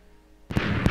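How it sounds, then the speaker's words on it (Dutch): A ship's cannon in a video game fires after a silent lead-in: one sudden loud boom with a crackling blast tail, then a second sharp burst just after. "Bram, mag ik jou vragen om de kanon een keertje af te steken?"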